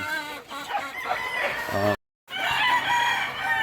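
Young pullets in a backyard flock call out, a close run of squawking, clucking fowl voices, with a brief silent gap before the calling resumes.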